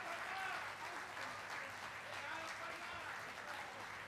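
An audience in a hall claps warmly for a mountaineer after her talk, a continuous crowd applause at moderate distance with faint voices mixed underneath.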